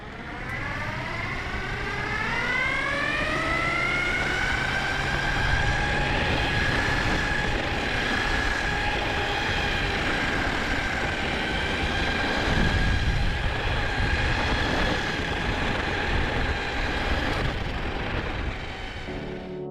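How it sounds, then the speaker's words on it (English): A Linnpower EVO MK1 Pro electric skateboard with gear drives accelerates. The steady, loud whine climbs in pitch over the first few seconds and then holds, with road rumble beneath and no talking. "Here's a quick raw sound clip of the board accelerating with the gear drives."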